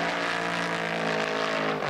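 Racing cars at the 1982 Australian Grand Prix support events, a loud sustained engine roar with rising harmonic whine from a car passing close, briefly dominating the track noise.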